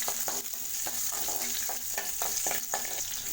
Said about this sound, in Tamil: சேர்த்துட்டு பச்சை மிளகாய் எண்ணெய் நல்லா பொரிஞ்சிட்டோம்